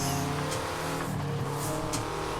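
A Peugeot 205 Turbo 16 in Forza Horizon 4: a steady, droning turbo engine hums at a constant pitch with rich low harmonics, a few brief hissy bursts breaking through, with no talking.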